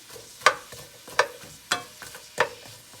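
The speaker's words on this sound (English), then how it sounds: "We're gonna saute this for about 2 minutes until the onion is kind of translucent and brown." Onions sautéing in a pan for a Philly cheesesteak sloppy joe filling, heard as four sharp, fairly loud scraping strokes of a utensil at a steady rhythm over a soft background sizzle.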